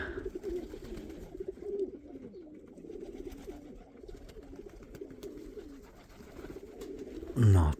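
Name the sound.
pigeons cooing in loft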